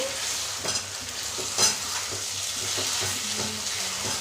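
Ragi halwa mixture stirred in ghee in a pan, a steady sizzle with repeated scraping strokes of the spoon close up and no voices.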